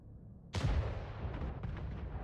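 A tank's main gun fires in a competitive online tank battle match, one sudden sharp blast followed by a decaying rumble and faint follow-up crackles, heard alone at moderate distance.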